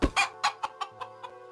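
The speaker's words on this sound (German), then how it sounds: "Oh, ein Gockel." A rooster in the video game Rising World gives a quick run of about seven clucks, close and clear, each one fading a little softer than the last, with no voices.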